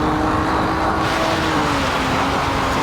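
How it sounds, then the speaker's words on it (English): Water spray hissing up from beneath a Puma GTB race car on a wet track in Automobilista 2, a constant broadband wash mixed with a steady engine drone, loud and continuous throughout. "you can hear the water spray coming from underneath the car"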